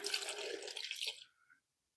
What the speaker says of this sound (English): Add some water, just enough water to